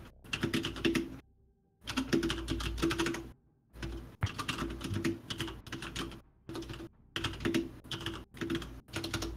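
Fingers type rapidly on a mechanical computer keyboard, producing dense bursts of clicky keystrokes up close, broken by a few short pauses.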